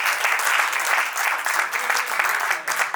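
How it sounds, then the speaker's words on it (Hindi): Audience applause at a motivational seminar talk, steady dense clapping throughout, loud and close, filling the whole stretch without any speech over it. "सर खुशी हो रही हो तो ताली बजा दो।"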